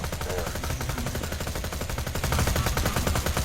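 Shotgun fire in the Borderlands 2 video game comes as a fast, steady stream of loud, close blasts that runs without a break.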